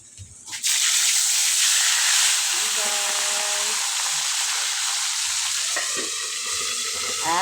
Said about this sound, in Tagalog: Ayan, ang isda natin prito.